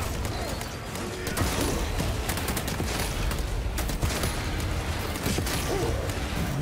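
Continuous heavy gunfire in Space Marine 2, dense rapid bursts and sharp cracks layered with clanks and impacts, loud and close throughout, with battle chatter underneath.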